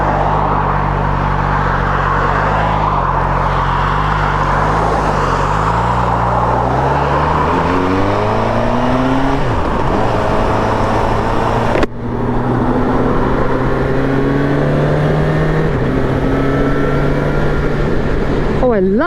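The engine of a 2023 Suzuki Katana motorcycle roars loud and close, its tone climbing and shifting steadily under constant wind rush, with a brief dip midway before pulling on again.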